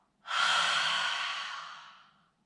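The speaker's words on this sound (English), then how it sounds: "just noticing that kind of constriction that you get at the back of the throat on the exhale" A single long yoga exhale through a constricted throat, a soft airy rushing breath that starts abruptly, holds, then fades over about two seconds, close and alone.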